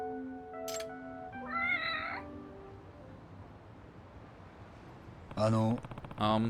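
A cat meows in the video game Lost Judgment, with several short meows early on and two louder, closer meows near the end over quiet background, and a voice talking briefly in between.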